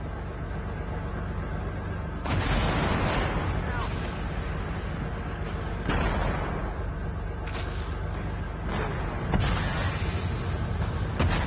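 Heavy gunfire and tank cannon booms in a Call of Duty Mobile match, with a loud continuous barrage of blasts and rumbling bursts, strong surges around the third, sixth and tenth seconds, and voices talking over the action.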